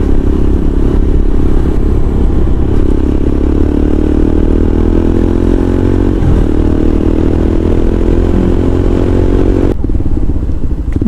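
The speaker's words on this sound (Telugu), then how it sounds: "సౌండ్ ఎక్కువ వస్తుంది బండిది." A motorcycle with its loose silencer parts removed roars on the road, its heavy, bassy exhaust droning loud and unbroken throughout while the engine note slowly rises.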